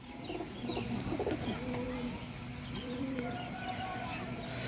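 Pigeons coo in low, repeated throaty calls at close range, with faint clucking and other bird noise mixed in and no talk.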